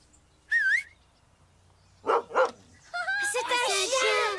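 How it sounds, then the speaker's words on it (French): A few short yips and barks from a dog, close and fairly loud, with a whistle-like call at the start. "C'est un chien."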